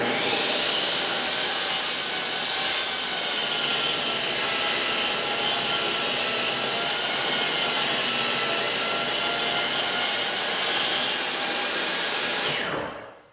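A table saw rips a wooden board to width for a pastry board top, its loud, steady whining cut holding for about twelve seconds before it winds down at the end.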